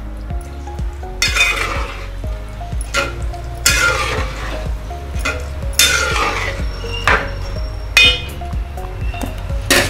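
Mint and coriander are mixed into pulao rice in a metal pot, with loud bursts of scraping and clinking spoon strokes at irregular intervals over a faint sizzle, close up and without speech.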